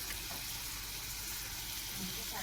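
Food frying in hot oil gives off a steady, even hiss and sizzle that carries on without a break and stays at a moderate level.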